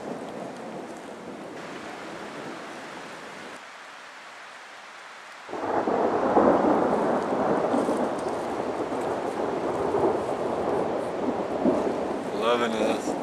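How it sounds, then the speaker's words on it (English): A quick thunderstorm rolls through the woods with heavy rain, hail and thunder. A constant rain hiss fills the air, then surges into a louder, fuller downpour midway, with rumbling underneath and no voices. "Lightning, thunder, some massive rain and some hail even."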